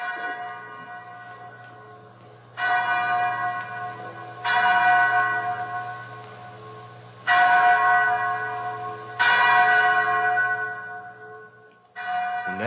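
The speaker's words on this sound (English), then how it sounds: "Mary, that's the chapel bell." A chapel bell in an old radio drama rings out with clear metallic tolls, five strikes spaced a couple of seconds apart, each one lingering and fading before the next. No one speaks over the ringing.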